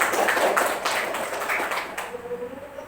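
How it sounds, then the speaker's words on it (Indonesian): Audience clapping for the class teacher at a primary school meeting, a dense burst of many hands that tails off after about two seconds, leaving quiet room tone. "Tepuk tangan untuk Bu Wali, Pak."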